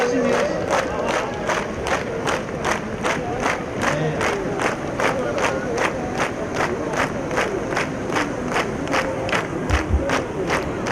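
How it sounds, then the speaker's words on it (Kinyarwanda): A large crowd at a public gathering in Burundi, held in honour of the president, claps in steady unison, with regular loud beats about twice a second over a roar of voices and cheering. "amashyi menshi"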